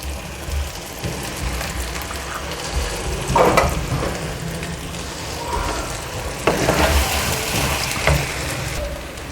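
Boiled chickpeas fry in a pan of masala paste with a continuous close sizzle, broken by scraping and clattering bursts as they are stirred through, with no talk.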